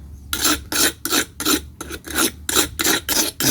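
A rubber-tapping knife is sharpened with a file blade in steady back-and-forth strokes, about ten harsh rasping scrapes in an even rhythm, close and clear with short pauses between strokes.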